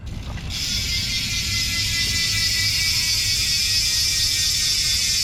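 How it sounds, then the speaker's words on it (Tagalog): Rapid, even clicking of a bicycle freewheel ratchet buzzes continuously for several seconds, close and loud, with a low rumble underneath. "i-check natin yung tunog nito kapag naka-free wheel"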